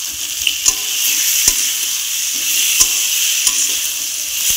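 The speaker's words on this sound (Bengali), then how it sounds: "পেঁয়াজটা পুরো ভাজা করে সেখানে টমেটো অ্যাড করলাম আর অল্প আলু কেটে দিয়ে দিলাম।" Onion, tomato and cut potato frying in a pan, a loud continuous sizzle broken by sharp metallic scrapes and clinks of a spatula stirring at intervals, close up with no speech.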